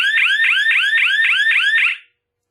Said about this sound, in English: Your siren will sound